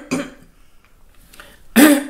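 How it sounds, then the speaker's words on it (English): Two deliberately faked coughs, close and fairly loud, come as a short burst and then a stronger one about a second and a half later, with quiet in between. "you can fake a cough"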